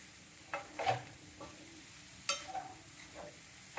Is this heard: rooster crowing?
no